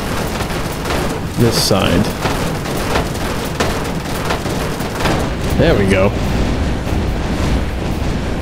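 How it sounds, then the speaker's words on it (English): Car being blown apart by a string of explosions in the video game Death Skid Marks, loud booms and bursts recurring throughout alongside music, with someone talking over them. "That was a lot of explosions"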